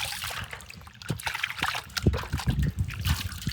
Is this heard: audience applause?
no